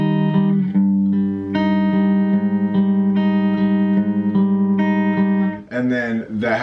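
Guitar strums a full chord shape for a song lesson, sustained and ringing with repeated strums, fairly loud and close, with no voice over it.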